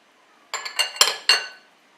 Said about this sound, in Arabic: صافي غادي نخلط مزيان